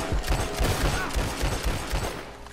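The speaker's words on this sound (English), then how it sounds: "I'm gonna start killing with the revolvers." Revolver shots in an online shooter game, a quick string of heavy low thumps fired in rapid succession, loud and close with a rumbling tail, no voices over them.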